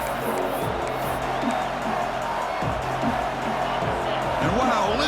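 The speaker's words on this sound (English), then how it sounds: "listen to this crowd noise. This stadium is vibrating." A dense, steady roar from a packed stadium crowd at a college football game between Tennessee and Auburn, with scattered whoops and cheers rising through the continuous wash of noise.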